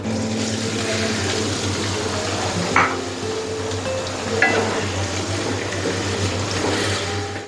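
Onions frying in hot oil in a pan make a continuous sizzle over a low steady hum, with a couple of brief stirring clinks.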